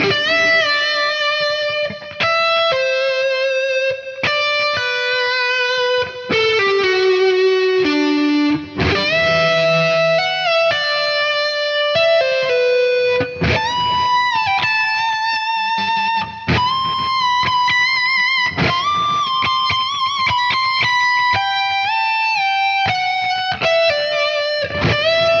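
A melodic electric guitar solo on an Ernie Ball Music Man Luke 3 run through an Axe FX 3, with a distorted, sustained lead tone, bends and fast note runs played loud and alone.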